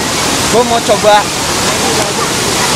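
Waterfall at Guci pouring in a steady, close, broadband rush that fills the whole clip, with someone speaking briefly over it near the start.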